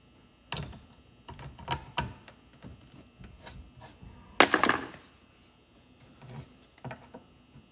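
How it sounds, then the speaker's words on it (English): A tool scratches and picks at old paint caked in the slots of antique brass screws, giving sharp irregular clicks and scrapes with one louder burst of grinding in the middle. The sound is close and there is no talking. "attempt to scratch a million years of paint out of the slots of these old-timey screws"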